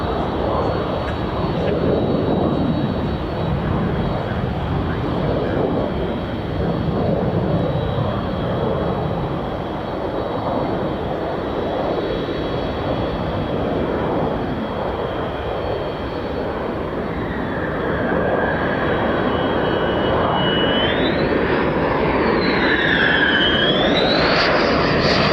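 Military fighter jets roar continuously at an air base, F-15 and F-35 types, a loud sustained broadband engine noise with a rising whine near the end and faint voices beneath.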